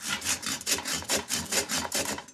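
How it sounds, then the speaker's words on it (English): Dark whole grain bread rasped against a grater in steady, rhythmic back-and-forth strokes, about a dozen close scraping passes with no talk. "So after grating all this bread,"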